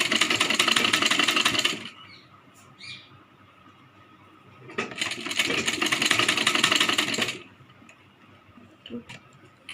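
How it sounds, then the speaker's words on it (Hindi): A sewing machine stitches a Rajputi kanchali blouse in two rapid, steady bursts, about two seconds each with a pause between, close and fairly loud over a quiet room with faint chirps. "इसकी सेकंड सिलाई कर लेंगे"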